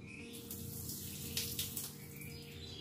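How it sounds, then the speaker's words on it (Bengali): Sago is washed in filtered water in a home kitchen, with a soft, steady trickle and light splashing heard close and quiet, with no speech. "আর যেহেতু ভেজাটাই খেতে হবে, সেই জন্য বাবা অবশ্যই ফিল্টারের জলে ধুচ্ছি।"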